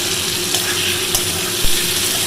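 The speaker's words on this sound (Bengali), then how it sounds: "মাছটা ভাজা হয়ে গেছে এখানে" Fish frying in a pan, giving a loud, continuous hiss of sizzling oil with a few faint clicks, close and steady with no one talking.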